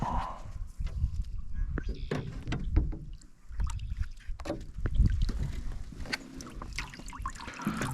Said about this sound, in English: this boat is a lot heavier, a lot harder to oar